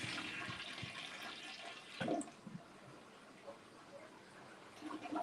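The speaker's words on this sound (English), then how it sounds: "then flush the toilet" A toilet flushes in a quiet theater bathroom, a faint, distant rush of water that swells briefly and then trails off into low background hiss, with no talk.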